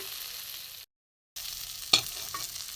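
Spice-powder masala with sugar is sautéed in a pan, with a steady close sizzle and a scraping stir. The sound cuts out briefly in the middle, then a single louder scrape follows.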